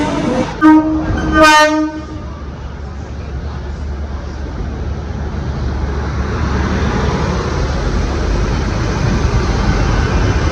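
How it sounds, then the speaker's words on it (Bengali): A train horn blasts loudly twice, then the heavy rumble and clatter of the Darjeeling Mail rolling into platform three close by builds and continues steadily. "ট্রেন ঢুকছে"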